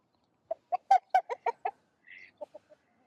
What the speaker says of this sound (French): T'as vu le coq, chaton?